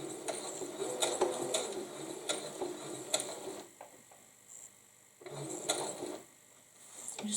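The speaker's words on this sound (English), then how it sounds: "I'm going to sew on so my needle goes on to that mark that I've made" A sewing machine stitches fabric blocks for a baby name quilt, running in rapid buzzing bursts with short pauses between, close and clear with no talking.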